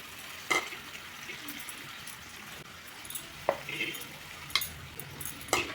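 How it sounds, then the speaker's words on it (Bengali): Chicken curry with coriander paste sizzling and frying in a pan while being stirred, with a soft steady hiss broken by occasional scrapes and clinks of the spatula against the metal. "একটু নাড়াচাড়া করে মিশিয়ে নেব।"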